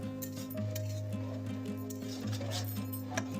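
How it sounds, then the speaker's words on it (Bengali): A spoon scrapes and taps against a pan while stirring sugar into a vegetable curry of winter greens and red amaranth, giving repeated light clinks in an uneven rhythm over a low steady hum. "এবার চিনিটা একটু ওপর নিচ করে দিচ্ছি"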